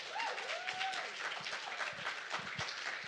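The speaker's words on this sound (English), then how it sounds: "please give another round of applause for Kenzie" Audience applause at a poetry reading, a steady, close round of many hands clapping throughout, with a faint voice briefly rising above it.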